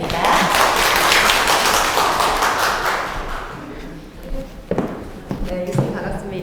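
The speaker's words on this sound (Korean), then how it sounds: "큰 박수 부탁드립니다." Audience at a Friday science lecture in Daegu applauding the introduced professor, a loud dense burst of clapping that fades out after about three seconds, followed by a few stray taps and a host speaking.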